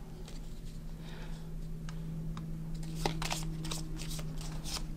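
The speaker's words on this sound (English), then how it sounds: "and I would shuffle those." Thunderstone Quest starter cards shuffled by hand on a tabletop, a close run of soft riffling clicks and flutters that grows busier toward the end over a faint steady background hum.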